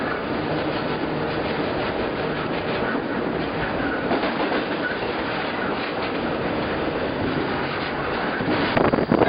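Steady rolling roar and clatter of a double-stack freight train pulling out of Willard, heard up close under heavy wind buffeting, with a sharper metallic burst near the end.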